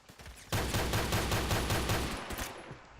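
A shotgun fires in the video game Phantom Forces, a rapid string of blasts running together into a continuous barrage for about two seconds before trailing off.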